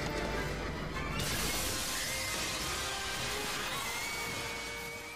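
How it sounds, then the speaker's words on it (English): Glass shatters and crashes from the time windows in the Doctor Who episode The Girl in the Fireplace: a dense, loud burst of breaking glass that sharpens after the first second and then rings on and slowly fades, with no talk. "No, smash the glass, smash the time windows."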